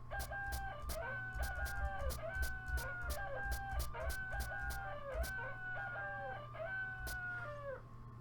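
Chickens clucking and crowing in the video game Meat Beat, a steady run of repeated synthetic cackles and crows with a looping low beat underneath, no talking.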